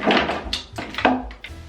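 Drawer in an apartment pulled open during decluttering: a few short wooden thunks and sliding scrapes, close and moderately loud, with no talk.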